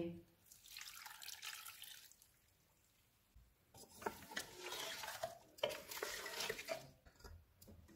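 A cup of water is poured into a pressure cooker of mutton pulao in two bursts with a splashing, gurgling rush, and a quieter pause between them.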